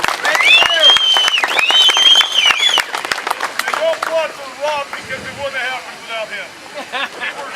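Outdoor rally crowd at a state capitol breaking into loud clapping and cheers, with whoops and shouted voices over the applause, then fading into scattered claps and crowd chatter.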